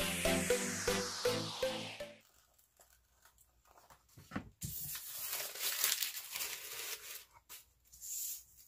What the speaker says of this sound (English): we're going to take our scissors and we're going to cut this out